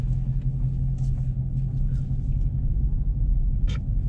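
Low, steady engine rumble from a Dodge Charger Scat Pack with the 392 engine while it drives on the freeway, a continuous deep drone heard from inside the car with a few faint higher clicks, no talking.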